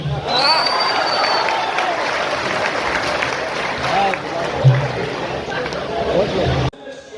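Audience applause at a mushaira poetry gathering in Koppal, a steady wash of clapping from a large crowd with voices mixed in, holding at an even level before cutting off abruptly near the end.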